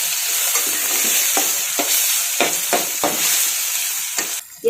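An onion mixture sautés in a pan for sambar, producing a loud, continuous sizzle with several scraping stirs spaced through it and no talking.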